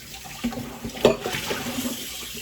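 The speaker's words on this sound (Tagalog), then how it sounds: "hugasan muna natin" Food being washed under a running kitchen tap, with a steady close trickle and splash of water broken by a few soft knocks and handling sounds.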